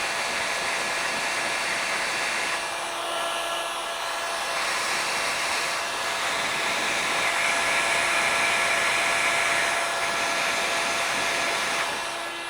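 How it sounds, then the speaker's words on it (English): A handheld electric heat gun fitted with its smallest nozzle attachment blows steadily, a loud continuous fan-and-air roar with slight swells, running alone without speech. "I went for the smallest kind of little one, the smallest attachment on the heat gun."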